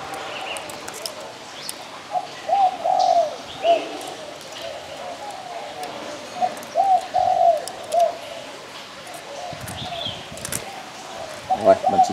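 Repeated soft cooing calls from a pigeon or dove come in short bursts over faint background noise and occasional talk.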